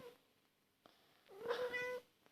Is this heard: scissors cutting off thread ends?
no